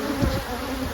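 Honey bees buzz steadily inside a hive a week after a Formic Pro treatment, a dense, agitated drone that holds close and even for the whole second.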